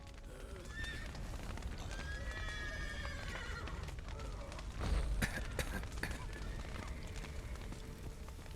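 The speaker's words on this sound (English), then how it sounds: "The horses!" Horses whinny in short shrill calls amid a busy, noisy scene, with rough ambient rumble and scattered knocks that may be hooves; the neighs come through clearly over the din.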